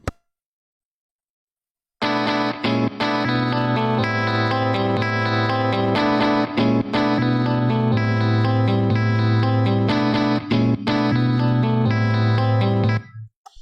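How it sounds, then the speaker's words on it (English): Music plays back with a muddy EQ after a short silence, dull and boomy, heavy in the lows and lacking crispness, continuous and loud with no voices. "I'm just going to generally make this sound muddier"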